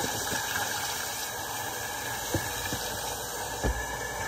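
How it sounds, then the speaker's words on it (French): Running tap water rinses a kitchen sink, a steady hiss of flowing water with a few brief knocks and clatters. "On va rincer comme faut notre évier."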